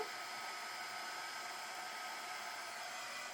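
A blow dryer fitted with a concentrator nozzle blows in a steady, unbroken airy hiss, close and constant, with no voices.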